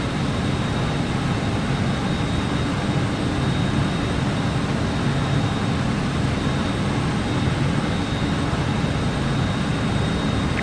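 BAe 146 jet airliner engines in Microsoft Flight Simulator, a Just Flight 146 Professional flying Brussels to Luxembourg, giving a steady, dense roar with a faint high whine, constant and loud throughout with no talking.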